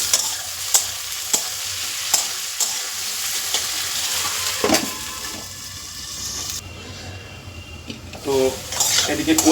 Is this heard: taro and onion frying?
yes